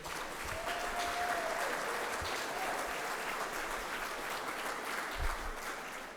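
Audience applauding at a Masonic Temple 25th anniversary event, a sustained even wash of clapping from many hands, fairly close and steady throughout without any talking over it.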